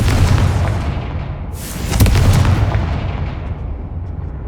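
Confringo fire spell explosion in the Hogwarts Legacy video game, a loud booming blast with a heavy low rumble, a second burst around the middle, then a fading roar.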